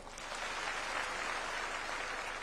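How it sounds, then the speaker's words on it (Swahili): Audience at a State House engagement between a head of state and village elders applauds in a brief, steady wash of clapping, fairly quiet and distant, with no speech over it. "tuwapigie makofi"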